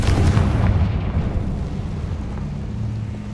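A Confringo blasting spell in Hogwarts Legacy detonates in a loud, heavy boom right at the start, its rumbling blast trailing off into a low lingering roar.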